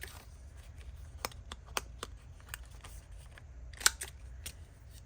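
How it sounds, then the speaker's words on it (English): Scissors trim the corners of a paper craft tag backed with gray paper, giving a few quiet, sharp snips spaced across a soft background hum, one snip slightly louder than the rest. "I do need to cut these corners."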